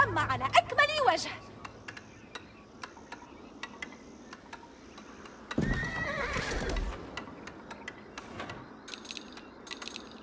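A horse neighs loudly with a shrill, wavering whinny in Age of Empires IV, playing the Abbasid Dynasty. Scattered clicks and hoof-like taps follow under quieter game ambience.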